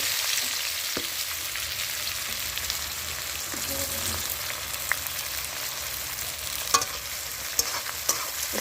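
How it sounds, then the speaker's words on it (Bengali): Chopped onions fry in hot oil while a spatula stirs them, making a steady, close frying hiss broken by occasional knocks and scrapes of the utensil against the pan while chicken kosha is cooked. "একটু নাড়াচাড়া করে পেঁয়াজগুলো ভেজে নিলাম।"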